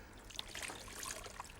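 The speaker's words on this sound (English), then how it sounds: "We'll put in some cold water first of all to see if it's too cold." Cold water pours into a bath in a brief continuous trickling splash, soft and steady, with no voices.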